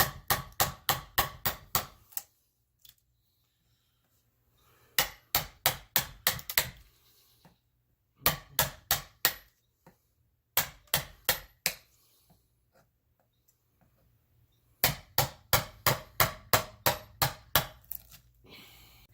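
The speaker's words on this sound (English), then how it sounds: "he's chiseling the wrong way" Chisel and hammer strikes hollowing out a wooden dishing stump, in bursts of rapid sharp blows separated by quiet pauses, close and loud with no talk.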